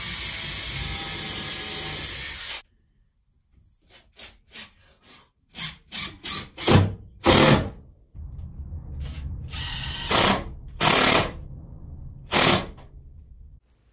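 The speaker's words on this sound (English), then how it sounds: "I used temporary screws to fasten cleats along the scarf joints to spread the load evenly." Temporary screws being driven to fasten cleats along scarf joints on a carvel-planked wooden boat deck: a loud steady burst, a pause, then a series of short and longer whirring, gritty bursts at irregular intervals, close by with no talk.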